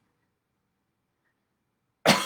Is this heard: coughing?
yes